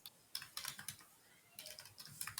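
A computer keyboard is typed in two short bursts of close, crisp keystrokes with a brief pause between them, the clicking heard alone and fairly quiet.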